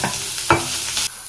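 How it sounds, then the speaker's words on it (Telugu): Onion and green chilies drop into hot oil with curry leaves for a tomato curry. A short, loud burst of sizzle comes with one clatter of a utensil, then the sound settles quickly. "ఉల్లిపాయ, పచ్చిమిర్చి వేసుకుందాం."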